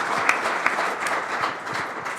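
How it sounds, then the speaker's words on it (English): An audience at an executive forum applauds, a steady dense wash of clapping from a roomful of people across the whole clip, with no voices. "Let's give them a round of applause"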